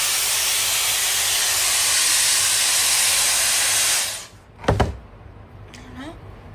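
A Célesta hair styling tool blows a loud, steady broadband rush of air while brushing hair, then cuts off after about four seconds, followed by a brief whir and quieter handling noises.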